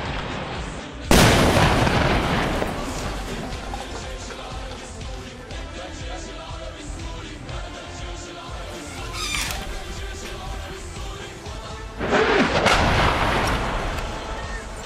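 Mortar rounds, 120 mm, exploding close by during street fighting in Jobar, Syria, with two sharp loud blasts some eleven seconds apart and a smaller crack between them, over a constant background of battle noise.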